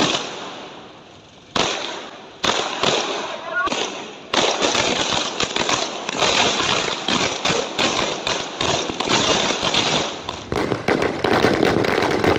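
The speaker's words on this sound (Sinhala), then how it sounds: "රතිඤ්ඤාපත් වූ බවද කිව යුතුය." Fireworks go off in celebrations across Sri Lanka: a dense barrage of sharp crackling bursts and pops, loud and continuous with brief gaps, mixed with crowd noise.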